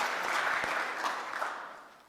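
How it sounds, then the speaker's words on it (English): A room of people at a Rotary Club of Oakland meeting claps steadily for about two seconds, a moderate burst of applause that fades out at the end. "Let's give a round of applause for Councilmember Jenkins."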